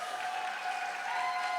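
An audience at a school recognition awards ceremony cheers and applauds for an award recipient, a steady dense wash of clapping that holds evenly from start to finish.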